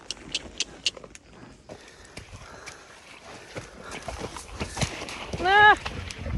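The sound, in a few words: horse hooves splashing while wading through deep floodwater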